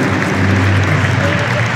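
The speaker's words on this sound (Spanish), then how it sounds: "Vamos el aplauso para ellos." Audience applause at a certificate ceremony in Plaza Huincul, a steady dense wash of clapping filling the whole stretch, fairly loud, with a voice faintly present beneath it.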